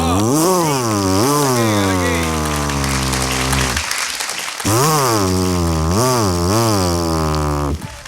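A man on a comedy stage mimics a chainsaw tree cutter with his voice, giving loud, revving, buzzing bursts that surge up and down in two long runs split by a short gap.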